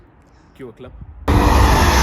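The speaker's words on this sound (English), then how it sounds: "These cars are known for their raspy noises, and this car with the X-pipe sounds amazing." A BMW E46 M3 with a decat X-pipe exhaust lets out a loud, raspy roar that bursts in abruptly after a short spoken phrase and holds steady for about a second.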